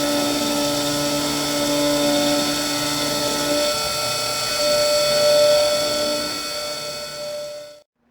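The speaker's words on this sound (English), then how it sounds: "So I click begin milling, and it's going to begin here in just a second." A Roland Modela milling machine cuts a PCB with a steady high whine and tonal hum, fairly close and continuous, then stops abruptly.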